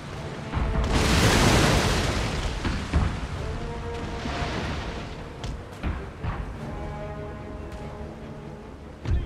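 Cannon artillery booms in a Napoleonic battle game, several heavy blasts with rumbling tails, one big loud burst early followed by further distant thuds and rolling reports.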